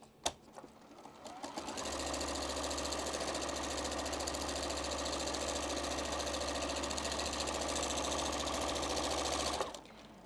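Sewing machine running straight quilting lines across fabric, a close, loud, steady mechanical hum that starts after a few clicks, runs unbroken for about eight seconds, then stops abruptly.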